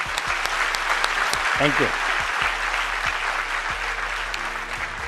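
An audience at a network marketing seminar gives strong, continuous applause, a dense steady patter of many hands, with someone briefly saying thanks over it.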